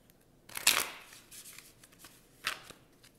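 Tarot cards being shuffled in two quick riffling bursts, a louder one early and a shorter one later, with soft handling noise between and no talking.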